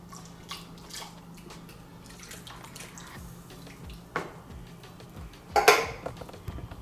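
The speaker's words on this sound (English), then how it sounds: "So I'll add my milk now to the consistency" Milk is poured into a pot of cornmeal porridge, a soft liquid trickle with light drips and clinks of metal cookware, ending in a brief louder splash near the close.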